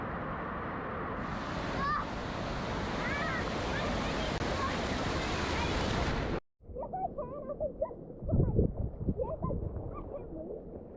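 The waterfall at Fruitbat Falls, Cape York, roars as a steady broadband rush that cuts off abruptly, followed by quieter water, wind and people talking.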